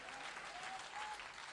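A church congregation applauds in praise during a French-language sermon, a steady dense wash of clapping across the whole stretch, with a faint voice or tone drifting underneath.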